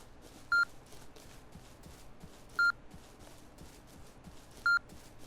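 A metal detector in the game Rust gives three short electronic beeps at evenly spaced intervals, about two seconds apart, over a quiet hiss of background noise.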